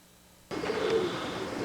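Pet pigeons let out in the morning coo softly after a sudden onset of outdoor ambience, with a low, near cooing phrase and steady background.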